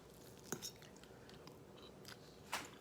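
Someone takes a bite of a creamy potato filling made with cream cheese and sour cream, producing a couple of soft, close chewing and smacking sounds with quiet gaps in between.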